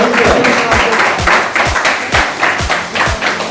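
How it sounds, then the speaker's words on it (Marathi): An audience claps in a rhythmic beat of loud, close, even strokes at a World Nurses Day event, with no voices over them. "जोरदार टाळ्या द्यायला पाहिजे."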